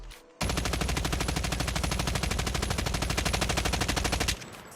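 In a first-person shooter aim-training session, an automatic gun fires one long unbroken burst of rapid, evenly spaced shots, loud and close, then stops abruptly, with faint ambient game noise before and after.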